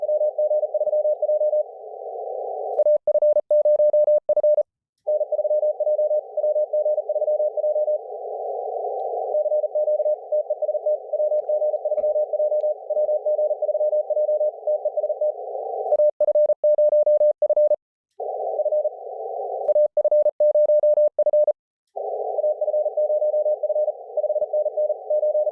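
Morse code CW on HF amateur radio during a contest: steady sidetone tones and fast keyed bursts of dits and dahs, clean and loud with brief gaps and no talk.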